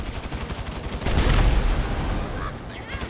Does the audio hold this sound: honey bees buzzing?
no